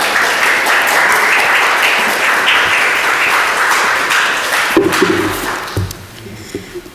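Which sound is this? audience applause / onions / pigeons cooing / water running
audience applause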